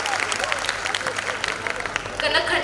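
Audience applause at an abacus academy national competition award function, a dense, steady patter of many hands clapping while a voice carries on over it.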